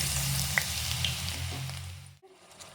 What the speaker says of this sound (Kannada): ನಂತರ ತುರಿದಿರುವ ಕ್ಯಾರೆಟ್ ಹಾಕ್ತಾಯಿದ್ದೀನಿ.